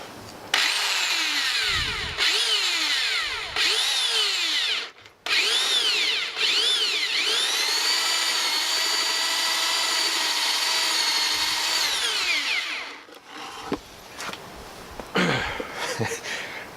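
A power drill whines steadily, its pitch dipping and rising as it bites through the wood of a bird box, with short pauses and a brief rattle near the end.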